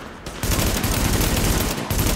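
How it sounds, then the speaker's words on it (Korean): Rapid automatic gunfire in The Division beta on Xbox One, dense continuous bursts with brief gaps, loud and close. "잠깐만 총소리 너무 커"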